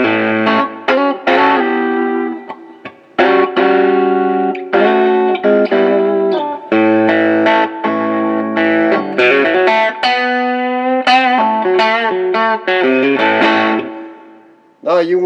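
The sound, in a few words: electric guitar through Mooer Solo distortion pedal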